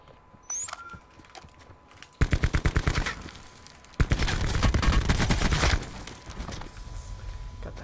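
Bursts of video game gunfire from a first-person shooter match: rapid automatic volleys, one beginning near the middle and a denser stretch after, loud and close, with a few scattered single shots around them.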